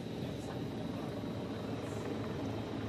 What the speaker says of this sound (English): You can probably hear the helicopter overhead.